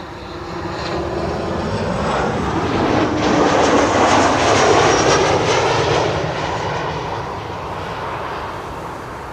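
A propeller airliner, registration PH-CKA, flies downwind near Schiphol, its engine drone swelling steadily to a peak midway and then easing off, heard continuously at moderate distance with no talk.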